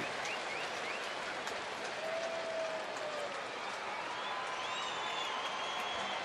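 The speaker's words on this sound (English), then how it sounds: "Or perhaps that's a mock cheer." A baseball stadium crowd at a Cleveland at Texas game gives a broad, steady roar of applause and cheering after a popped-up ball is caught, distant and continuous.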